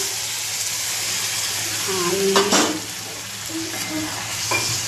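Steady sizzling of vegetables sautéing in a hot pan with occasional stirring scrapes, close by; a faint voice briefly underneath.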